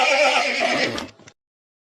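A horse gives a loud, close whinny that rises and trails off over about a second, then cuts to silence.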